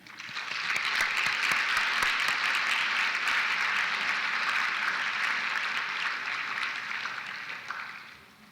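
Sustained audience applause at a college awards ceremony for science students, a steady dense clapping from a large crowd that swells quickly, holds for several seconds and tapers at the end.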